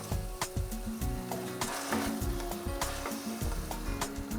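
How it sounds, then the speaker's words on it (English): Red wine hits a hot pan of beef for a pasta dish, giving a steady close sizzle mixed with scraping and stirring knocks from a utensil against the pan, continuous throughout with no voices. "Next up, we're going to add the wine to this dish."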